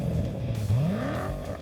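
A V8 engine rumbles close by, then its pitch sweeps sharply upward in a quick rising rev that stays loud to the end.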